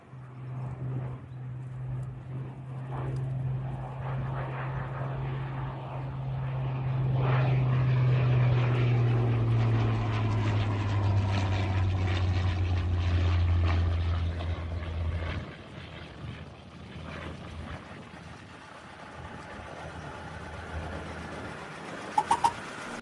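Propeller-driven Spitfire fighter engines in flight, a steady loud drone that swells and shifts in pitch as the aircraft pass, then fades to a lighter, more distant hum with no speech.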